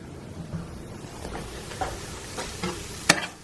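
Sausage, salami, mushrooms and Canadian-style bacon pre-cooking in a pan, a soft steady sizzle with faint stirring scrapes and one sharp clink near the end, no talking.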